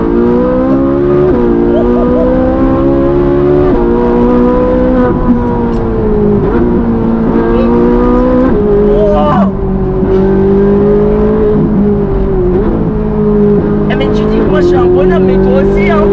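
A Ferrari engine revs and accelerates steadily through rising gears, loud and close, with people talking over it.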